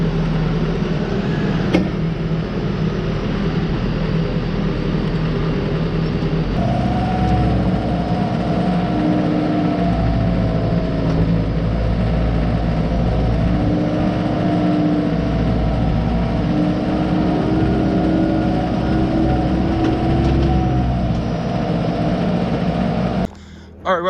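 A new four-wheel-drive farm tractor's engine runs at a steady, deep idle, close by and continuous. The pitch shifts slightly partway through as the engine load changes, with occasional talk underneath.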